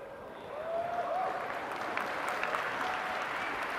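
An audience breaks into applause at the reveal of the Wii U controller, a broad steady clapping swell that builds in quickly and holds, with faint crowd murmur underneath.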